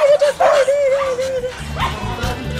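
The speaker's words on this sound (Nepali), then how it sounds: "यो कुकुरको नाम डक्टर।" A rescued dog at a shelter for street dogs hurt in road accidents gives high yips and whimpers near the microphone, with a deeper bark or growl toward the end.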